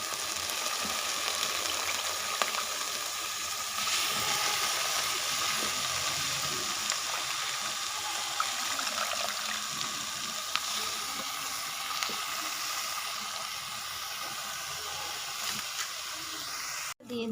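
Washed greens hitting hot oil in a pan of fried pointed gourd set off a loud, steady sizzle and hiss that keeps up the whole time, with no talking over it.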